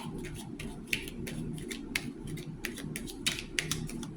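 Tarot cards shuffle with quick papery riffles and soft taps, repeated irregularly over a low background hum.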